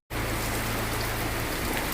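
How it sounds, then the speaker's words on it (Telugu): Rain falls steadily in a dense, close hiss that starts abruptly and continues evenly without pause. "మళ్ళా వర్షం వచ్చేస్తుంది."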